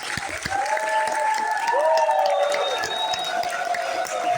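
Assembly audience clapping together in a large hall, a steady broad wash of applause lasting throughout with crowd noise and some voices mixed in.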